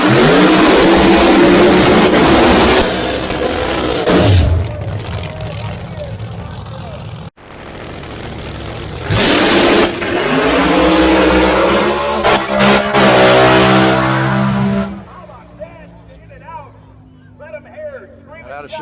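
Outlaw 632 and Pro Modified door slammer drag cars launch and race at the Snow Bird Nationals, engines roaring loud at the hole shot, then surging and fading with a brief gap between runs while commentators talk over them.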